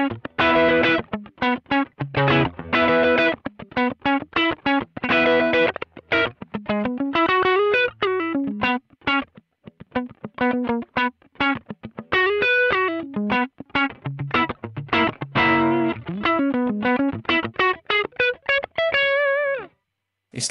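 An electric guitar played through a Digitech Screamin' Blues overdrive pedal gives crunchy distorted chords and single-note riffs, loud and continuous, with short pauses between phrases and no talking.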